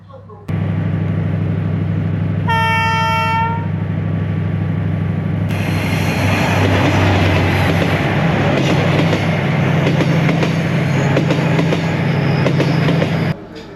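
A train in Vietnam rumbles past through a village near a small station with steady rolling noise and clatter; a loud horn blast sounds briefly before the rumble intensifies and continues.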